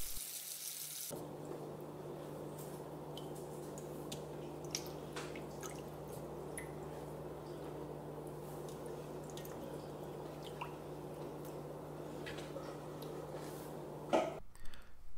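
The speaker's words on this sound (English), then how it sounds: "the salt needs to be rinsed off with cold water" Salted mullet roe being rinsed under cold running water, with a steady, close stream of running water and faint dripping throughout before it cuts off near the end.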